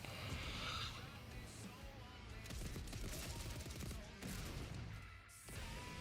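Gunfire from a video game trailer shown at Gamescom 2025, dense bursts of shots layered with music and effects, loud and continuous across the clip with brief dips.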